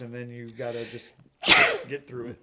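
A single sharp sneeze bursts out right after a person finishes speaking, close and loud, followed by more talking.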